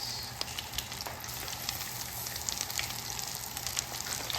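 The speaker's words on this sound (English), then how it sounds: "We start to fry the chicken" Chicken for chicken francés sizzles steadily in hot oil over medium-high heat, a constant crackling hiss with small pops, close and fairly loud.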